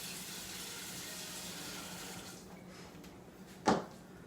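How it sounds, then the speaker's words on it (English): Tap water running into a sink while canned corn is rinsed, a soft steady hiss that fades partway through, ending with a brief clunk, quiet and alone with no voices. "And then I'm going to rinse the corn off, just so you can take away that canned flavor to it."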